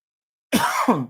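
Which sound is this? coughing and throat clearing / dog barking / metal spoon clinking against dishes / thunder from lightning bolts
coughing and throat clearing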